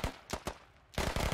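Video game gunshots from Squad crack in sharp separate reports, a few spaced single shots and then a quicker cluster of three or four, fairly faint overall with no talk.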